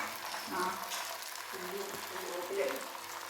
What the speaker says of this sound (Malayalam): ഇതിലേക്ക് ചിക്കൻ പൊരിച്ചത് ഇട്ട് കൊടുത്തിട്ട് നന്നായിട്ട് മിക്സ് ചെയ്ത് കൊടുക്കുകയാണ്